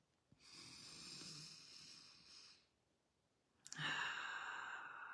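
A deep, slow breath taken during a guided breathing exercise: a long breathy exhale, a pause, then a sharp, audible inhale, close and quiet with no talk.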